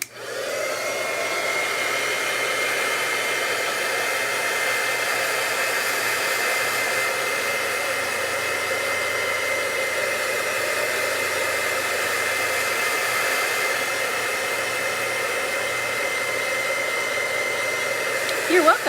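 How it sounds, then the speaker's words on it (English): A heat gun blows hot air over embossing powder on a handmade mandala card, a steady, close, breathy roar that holds evenly for the whole stretch with no talking. "I'm going to hit it with my heat gun for just a second to get the full reaction"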